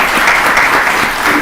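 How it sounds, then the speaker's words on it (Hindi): An audience at a Women's Day television program applauds loudly, a dense, steady wash of clapping that fills the entire brief moment. "रूमा जी, एक बार जोरदार तालियां हो जाए इनके लिए"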